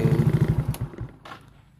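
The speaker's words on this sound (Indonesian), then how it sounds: "suara mesinnya suara khas dari mesin-mesin Yamaha ya guys ya dan ini masih halus" A Yamaha X-Ride scooter engine idles smoothly with a quick, even putter that fades out after about a second. A faint click and a soft rustle follow.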